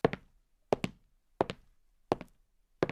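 Five heavy footsteps fall at a slow, even pace, each a sharp thud followed by a short scuffing trail, close by and alone.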